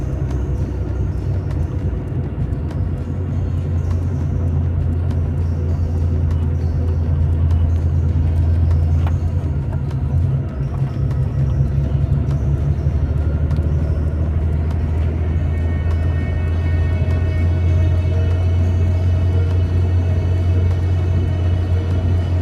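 Interior of a Porsche 911 3.2 with G50 gearbox running on E85 ethanol, coasting downhill off the throttle: a steady, loud low engine and road rumble persists throughout, with a faint rising whine later on.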